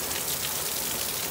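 Heavy rain pours down outdoors in a steady, dense hiss, loud and unbroken with no voices.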